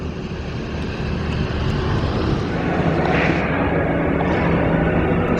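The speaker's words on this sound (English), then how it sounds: "This is the minibus conveniently driving past us." A Disney World themed minibus passes close by as a loud, steady engine rumble with broad road noise that swells and then eases slightly.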